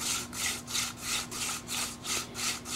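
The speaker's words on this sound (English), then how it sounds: "This is the hand drill method. Just taking two pieces of wood." Two pieces of wood rub together in a hand drill friction fire, giving a steady rhythmic rasping with about nine regular back-and-forth strokes and no talk over it.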